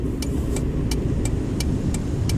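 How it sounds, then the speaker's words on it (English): A 1987 Mitsubishi Colt hums along on the road, a steady loud engine and tyre drone from inside the cabin with faint regular ticking clicks repeating about every third of a second. "So this car is a 1987 Mitsubishi Colt."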